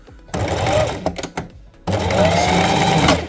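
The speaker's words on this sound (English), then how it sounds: "we've done the stitching" A sewing machine stitches a jeans tote bag nearby in loud bursts: a short run, a few stop-start stutters, then a longer continuous run.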